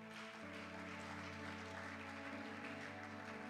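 A church congregation applauds at a French-language prayer and doctrine service, a dense, continuous clapping that stays even throughout, with a sustained organ-like tone underneath.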